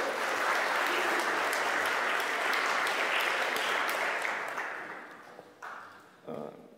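Audience applause for a speaker at the OpenFest conference, a sustained full crowd clapping that tapers off toward the end, leaving a few last claps and a brief noise.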